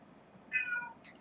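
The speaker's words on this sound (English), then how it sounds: "I'm so sorry if you guys can hear a cat, but my cat is just screaming outside." A cat meows loudly outdoors in one drawn-out, strained yowl, followed by a short second cry, heard at moderate distance over quiet room tone.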